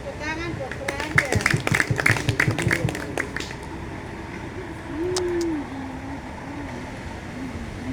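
Children and adults clapping along at a Sunday school Christmas celebration, a short burst of rhythmic hand claps followed by a voice and faint room chatter.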